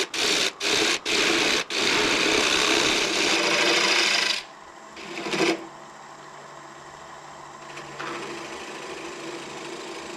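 Gouge rasping against chestnut wood spinning on a lathe, a loud steady scraping with a few sharp bursts at the start, then dropping to a quieter motor hum and lighter cutting.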